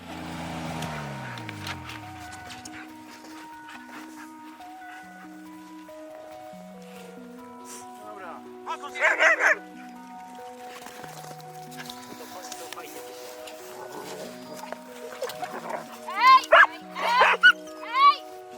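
A mountain rescue dog gives a few sharp barks in short bursts while people talk nearby, with quiet background music throughout.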